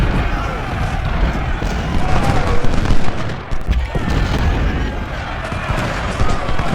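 A Civil War battle in the strategy game Ultimate General roars with steady musket fire and artillery, a loud, dense rumble of crackling volleys and booms that keeps going with no break.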